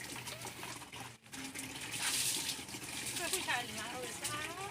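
Water runs steadily from a tap during washing, a continuous close splashing gush with a brief break near the start, while a voice speaks over it.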